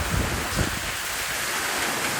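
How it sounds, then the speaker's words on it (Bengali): A strong windstorm with falling hail makes a constant broadband roar, with a couple of deeper gusts rumbling early on. "খুব জোরে বাতাস আসতেছে আর বাতাসের সাথে শিল পড়তে দেখেন কি করে ঝড় হচ্ছে দেখেন"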